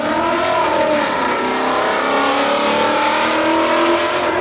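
A 1987 Buick Grand National engine revs loudly and continuously at a car show, its throaty roar rising and falling close by with no talking.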